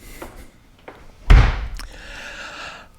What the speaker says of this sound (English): So, coming through the door,